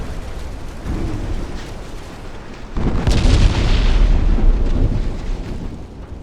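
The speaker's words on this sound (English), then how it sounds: "There go the side torpedoes." Side torpedoes exploding against a ship in Ultimate Admiral Dreadnoughts, a steady low rumble that swells into a louder, heavy blast and a sustained roaring wash of sound.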